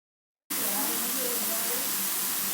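Kara boondi batter drops into hot oil, and a dense, even sizzling hiss starts abruptly after a moment of silence, holding steady and fairly close.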